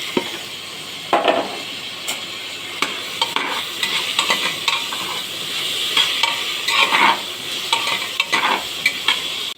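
Mixed vegetables for pav bhaji sautéed in a pan, a continuous sizzle broken by repeated scraping clicks of a spoon stirring against the metal, close and clear with no talking.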